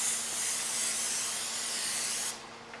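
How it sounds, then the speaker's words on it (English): Cooking spray hisses onto a baking pan for a baked ziti, one continuous bright spray for about two seconds that cuts off sharply. "we'll go ahead and spray our pan"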